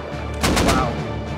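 A quick burst of three close gunshots from an assault rifle in the survival game Rust, sharp and loud over a low game ambience.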